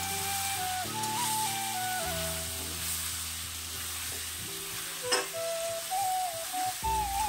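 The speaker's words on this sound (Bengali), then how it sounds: "মশলাটা দিয়ে আবারও ভালো মতো ভেজে নেব।" Ground spices, cumin and turmeric, fry in oil in a pan with a soft continuous sizzle and occasional stirring, partly masked by steady melodic background music.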